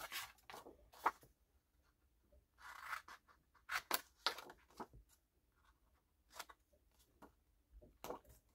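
Paper snipped with scissors while crafting a model locomotive, a series of crisp, separate cuts in small irregular clusters, close and fairly quiet with near-silence between strokes.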